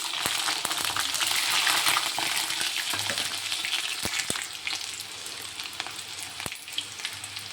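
Garlic added to hot oil with popped mustard seeds and cumin sizzles and crackles steadily for bitter gourd gravy, close and loud, with a few sharp clinks from a spoon against the pan.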